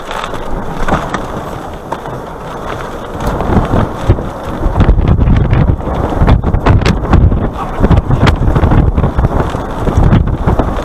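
Strong, gusting wind near a tornado in Morton, Texas, roars and buffets the microphone, building louder about halfway through into a heavy, continuous rumble.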